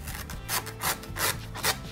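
A knife saws through a tough, fibrous mature vegetable to trim off its ends, giving a close, rhythmic series of four or five rough rasping strokes.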